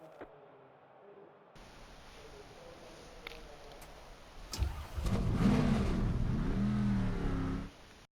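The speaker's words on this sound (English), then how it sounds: "Drivers, start your engines!" Video game NASCAR stock cars at Texas firing up their engines, a quiet hum giving way to a loud, sustained, wide-band engine roar with rising revs that cuts off abruptly near the end.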